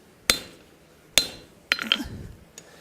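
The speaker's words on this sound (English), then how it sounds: "I'm going to use my rivet heading tool, little set tool here" Hot rivet head struck with a rivet set tool and hammer: three sharp metallic hammer blows spaced about a second apart, the last followed by a ringing clatter, then a faint tap.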